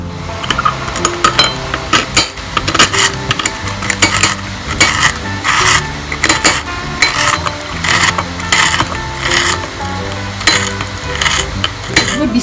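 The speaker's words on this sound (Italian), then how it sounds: "Metto in padella con tutti i condimenti della marinatura, senza aggiungere altro olio" Marinated chicken cooks in a pan in its own marinade with no added oil. A spatula scrapes and clinks against the pan in repeated rhythmic strokes over a low sizzle, close and fairly loud, with no talking.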